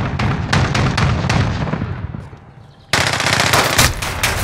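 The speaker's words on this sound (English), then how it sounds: "Got a sentry gun on station." An automated sentry gun in a first-person shooter game fires rapid, loud bursts of automatic gunfire at close range, briefly pausing before resuming with a sharp renewed volley.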